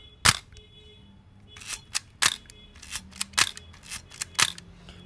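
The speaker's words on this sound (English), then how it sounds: "Usually the shutter fires at all speeds." A Chinon CS SLR film camera's shutter fires repeatedly at 1/1000, about eight sharp, close mechanical clicks spaced irregularly across a few seconds in a quiet room.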